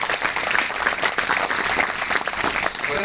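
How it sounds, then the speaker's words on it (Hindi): An audience at an NSS camp claps in sustained, dense applause, a steady crowd of many hands that is loud and continuous throughout. "ये बजा दो ताली"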